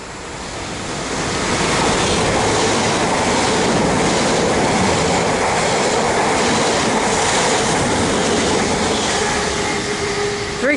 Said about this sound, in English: the next train to pass by will be an Elizabeth line fast service going to Reading.